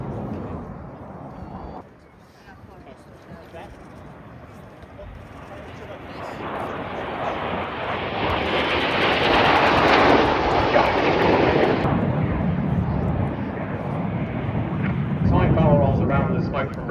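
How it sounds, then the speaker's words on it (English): Red Arrows jets fly past at the RAF Cosford air show, a roar that swells and fades and peaks loudest in the middle, with a commentator speaking over it. "The aircraft split in front of us, reds 1, 2 and 3 are out to our left"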